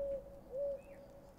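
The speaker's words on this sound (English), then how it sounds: "Stardew Valley Ginger Island owl noise?" A bird-like call on Ginger Island in the Stardew Valley video game, two clear hooting notes followed by a faint falling whistle, soft and isolated.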